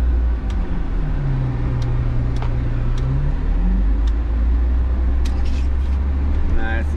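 A 36ft Class A diesel RV rounds a corner with a steady low engine rumble and road noise, faint clicks and a brief tonal whine near the end, while a voice talks over it.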